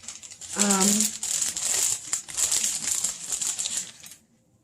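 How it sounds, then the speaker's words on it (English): Salt pours into a plastic bag, giving a steady crinkling, rustling rush for about four seconds, loud and close, with a voice speaking briefly near the start before it stops abruptly. "emptying stuff into the bag right here"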